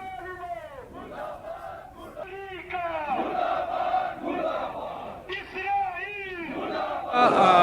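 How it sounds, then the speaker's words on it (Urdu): Protesters chant anti-Pakistan slogans in a Kargil market, a large crowd shouting in loud, rhythmic unison. Voices rise and fall in repeated call-and-response phrases that carry through the whole stretch. "احتجاجیوں نے پاکستان مخالف نعرے بازی کی۔"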